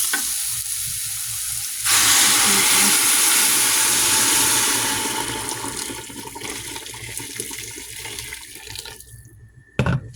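Water is poured into a large cooking pot of rice, a loud steady splashing rush that sets in sharply and then gradually fades, ending with a brief clatter.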